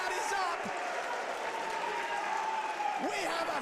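A crowd at a live fight event cheers and applauds in a sustained roar, with shouts rising above the din while a commentator talks over it.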